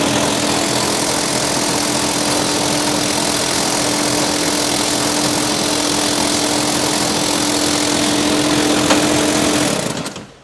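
A ChamberGuard spray system motor runs at a steady whir with a faint tonal hum for about ten seconds at constant loudness, then cuts out abruptly near the end.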